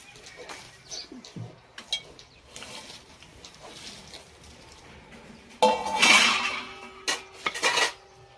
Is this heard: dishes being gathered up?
yes